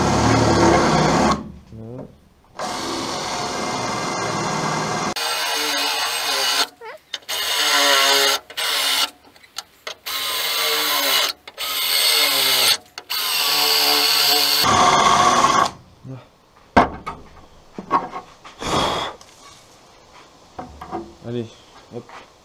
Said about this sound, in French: Donc là je vais faire enlever mes points de soudure.